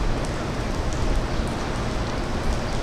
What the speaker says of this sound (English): No boats in the ocean right now. Just rain, just storm.